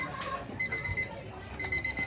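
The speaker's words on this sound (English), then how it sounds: "The alarm clock again." An alarm clock rings in short repeated high electronic beeps, a bright steady tone that stops and starts again, fairly close over a quiet room.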